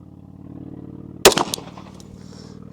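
A single sharp Glock pistol gunshot cracks loudly at an outdoor range, followed by a brief echoing tail that fades over a low background hum.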